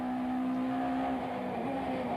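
Touring cars race side by side at Killarney circuit in 1994, with a steady, droning engine note that shifts pitch slightly, heard from a distance on a broadcast feed.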